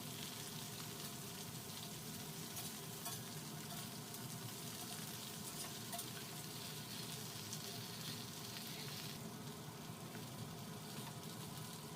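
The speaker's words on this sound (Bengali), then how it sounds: "সবজিগুলো একটু ভেজে নিলাম, ভেজে নিয়ে এবার ঝিঙেগুলোও দিয়ে দিলাম, দিয়ে একটু ভেজে নিয়ে" Vegetables and chopped ridge gourd fry in a karahi for a Bengali pumpkin-leaf chorchori, giving a steady, dense sizzle and crackle that holds at an even level throughout without any talk.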